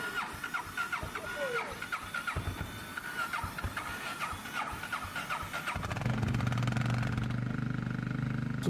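A motorcycle engine in Yakutia, Siberia, at about -56°C cranks with rapid rough pulses and squeals, then catches into a louder steady run, with a voice talking over it.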